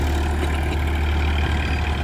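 A 2018 Massey Ferguson 245 DI tractor diesel engine runs steadily at about 1500 rpm, a continuous close, loud low drone with no pauses.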